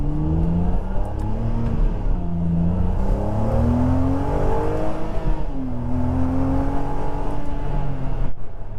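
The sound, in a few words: Ferrari 612 engine accelerating at high RPM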